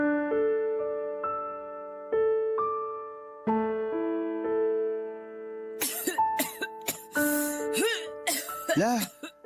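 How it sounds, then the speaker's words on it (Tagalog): Sustained tones give way to a burst of harsh, repeated coughing and throat clearing from an older woman, close and loud, in several rough bouts. "mukhang hindi na po magandang ubo nyo ah"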